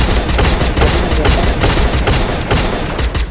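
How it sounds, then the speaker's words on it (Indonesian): Gunfire in a shooting video game, loud dense bursts of rapid automatic fire going off steadily throughout, with no talking. "Oh iya, tembak bareng yuk."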